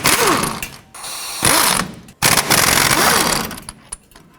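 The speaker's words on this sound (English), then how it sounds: "take an 18mm socket, remove both this bolt and the one up top there" An 18mm socket on a ratchet loosens brake caliper bolts on a 2007-14 Chevy Silverado, close-up rapid clicking ratchet bursts in several strokes separated by short pauses.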